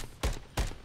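Two punchy gunshots from an online ranked shooter game ring out close and loud, about a third of a second apart, each a sharp thump with a brief tail.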